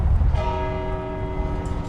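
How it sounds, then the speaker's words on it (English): Bells of the Cathedral of St. John the Evangelist in downtown Milwaukee toll for Pope Francis, a sustained ringing hum with lingering overtones over low outdoor rumble. "88 bells tolled at the Cathedral of St. John the Evangelist in downtown Milwaukee, one for every year of Pope Francis's life."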